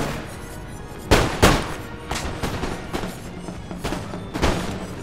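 Musket volleys from line infantry in an Empire: Total War multiplayer battle crack out as several loud bursts, the heaviest two close together early on and the others spaced irregularly after, with no talking over them.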